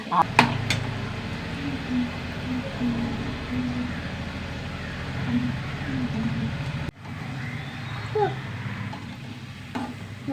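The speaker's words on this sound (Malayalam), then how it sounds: "ചെറുതായിട്ട് വെന്തിട്ട് പിന്നെ ഒന്ന് ഇളക്കിയാൽ മതി" Curry is stirred in a pan, with low sizzling and occasional scrapes and clinks of a spoon against the metal, and a brief sharp break partway through.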